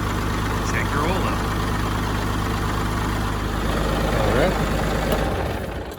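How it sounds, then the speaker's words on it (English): Kubota L3301 tractor diesel engine idling after an oil change, a steady low rumble up close while someone talks over it, settling slightly quieter near the end. "Crank her over. Let it run for about 30 seconds."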